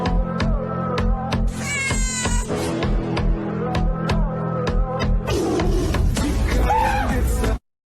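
Cat meowing in a TikTok clip, several loud close meows and drawn-out wails in quick succession over music and background voices, cutting off abruptly before the end.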